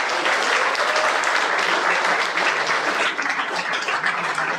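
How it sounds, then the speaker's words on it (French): Warm audience applause follows a thank-you at the launch of a jet-ski event in Le Tréport, continuous dense clapping from a sizable crowd that stays loud throughout. "On peut l'applaudir."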